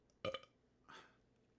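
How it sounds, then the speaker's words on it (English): A person burps loudly twice in quick succession after drinking vodka seltzers, followed by a softer, longer belch about half a second later, close and alone. "Excuse me, burping. I'm a burping Billy today."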